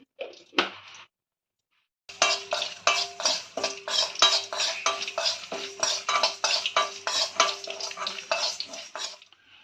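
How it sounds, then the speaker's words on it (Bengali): Whole dried red chillies, coriander, cumin and fennel seeds are dry-roasted in a bare pan. After a brief clatter and a pause, a spatula scrapes and rattles them in steady, rhythmic strokes, close and fairly loud, with no talk. "এবার ভালো করে আমি এটা শুকনো খোলায় ভেজে নেব"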